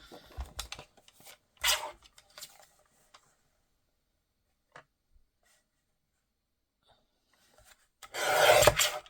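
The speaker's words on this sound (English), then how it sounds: "Let's cut a piece that is 3 1/4" Cardstock for a handmade card being cut: scattered close rasping and scraping strokes in the first few seconds, a long near-silent stretch, then a louder sustained rasping cut at the end, with no talking.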